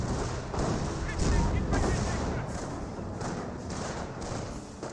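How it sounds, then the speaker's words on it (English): Anti-tank gunfire in the World War II strategy game Company of Heroes, shells striking tank traps: repeated heavy booms and thuds over a continuous rumbling battle din, loud and fairly close. "Some of these AT shots are now hitting his tank traps."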